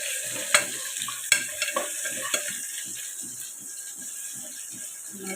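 Onions sautéing in a pan for a banana stem kootu, with a soft, constant sizzle under rhythmic scraping strokes of a spoon and a few sharper clacks against the pan early on.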